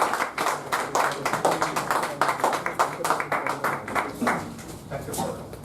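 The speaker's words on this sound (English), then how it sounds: "Another round of applause." Modest applause from a small group at a Toastmasters debate meeting, a few hands clapping in an uneven, rapid patter for several seconds, close and somewhat thin, tapering off toward the end.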